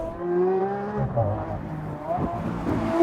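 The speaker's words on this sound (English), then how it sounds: "That V12 sounds so good." A Lamborghini Aventador S with a 740 hp V12 howls on a track in Spain, its engine note rising and falling through revs with a faint tire squeal, loud and close.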